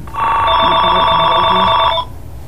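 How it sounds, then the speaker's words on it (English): A telephone ringing loud and close, one steady electronic ring of about two seconds that stops abruptly, with no talk over it. "You know how to shut the phone off?"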